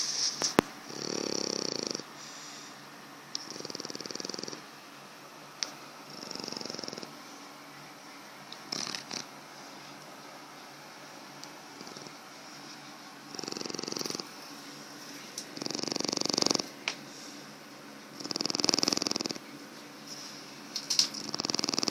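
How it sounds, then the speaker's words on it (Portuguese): A sleeping pet snores on and off, with rhythmic rasping breaths and pauses between them, close and fairly loud in a quiet room, and nobody speaking. "Vou tentar filmar ele roncando."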